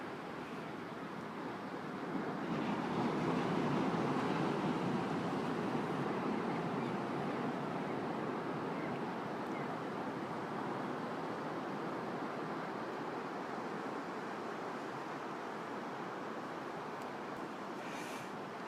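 Ocean surf at a windy beach where surfers and paddleboarders are out on the water, a steady, continuous wash of breaking waves mixed with wind rush, moderately distant and unbroken throughout.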